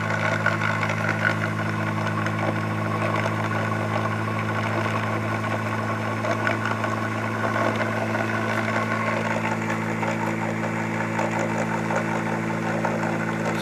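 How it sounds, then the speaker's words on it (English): A homemade magnet generator with coils and magnets runs steadily on its first trial, giving a continuous close mechanical hum with low tonal drone and even vibration throughout, no voices. "what's happening in the generator coils is it's generating power from the magnets"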